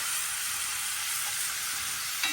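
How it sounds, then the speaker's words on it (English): Sugar being whisked into a hot, splattering bacon dressing with vinegar in the pan: a close, continuous sizzling hiss, with a small clink from the whisk or pan near the end and no talking. "And I'm going to whisk that together"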